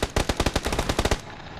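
Burst of rapid gunfire from a decoy grenade in PUBG, about ten sharp loud shots in quick rhythm over roughly a second, then a short fading tail.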